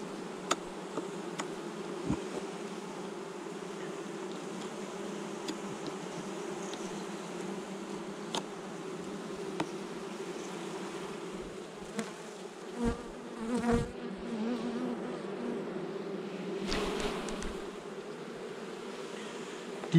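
Honey bees buzz in a steady, close drone at an opened hive during an early spring inspection, with a few faint knocks and clicks breaking through now and then.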